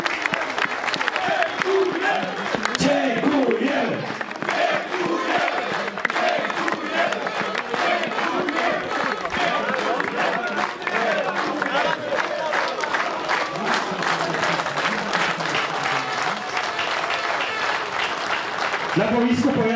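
Football crowd at a Jeziorak match applauds and cheers to honour player Grzegorz Sobiech, sustained dense clapping with shouts throughout, a commentator's voice running over it.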